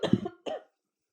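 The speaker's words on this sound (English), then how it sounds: "I'm about to cough right now." A person with a cold coughs twice close to the microphone, the first cough harsher and longer, the second a short follow-up.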